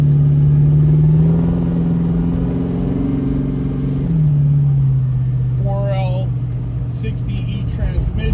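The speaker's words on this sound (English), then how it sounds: "I got an LQ9 engine that's been stroked." A 600hp Chevelle with a stroked LQ9 V8 and 4L60E transmission cruises on a freeway, its engine droning loud and steady up close, the pitch stepping down partway through, with faint whistling noise near the end.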